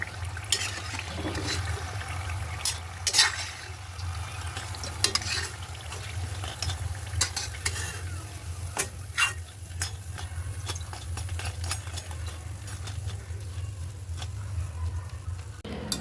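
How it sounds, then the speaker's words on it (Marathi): Beetroot puris sizzle and bubble steadily in a pan of hot oil, with a constant low frying hiss and a few sharp scrapes and clinks of a slotted spoon over sixteen seconds, no talking. "पुऱ्या तळून झालेल्या आहेत आपण त्यांना आता बाहेर काढूयात"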